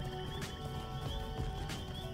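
A fast horse gallops in a video game set in Middle-earth, with steady hoofbeats under a continuous musical drone and no speech.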